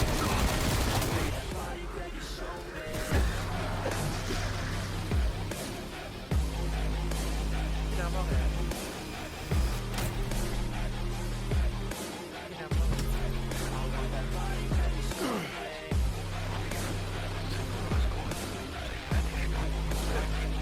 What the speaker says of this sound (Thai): ข้างหน้าเนี่ยผมได้ยิงเปิดกล่อง